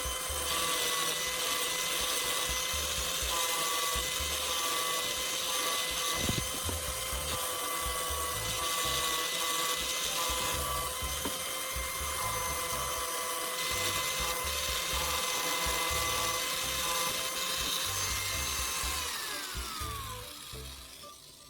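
An angle grinder fitted with a CD disc buffs a rusty hammer head, making a continuous whirring, rubbing whine heard close and steady throughout. It winds down at the end.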